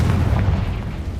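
A Confringo blasting spell goes off in Hogwarts Legacy, a deep booming explosion with a dense low rumble that fills the short moment at steady loudness, no voices over it.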